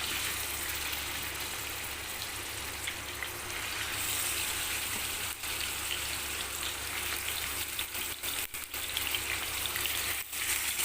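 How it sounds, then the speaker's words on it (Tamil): Chicken pieces sizzle in a small amount of hot oil in a pan, giving a steady, loud hiss and crackle that stays even for the whole stretch with only brief dips. "இப்போ வந்து எண்ணெய் லைட்டாக காஞ்சதும் சிக்கனை அப்படியே போட்டுருங்க"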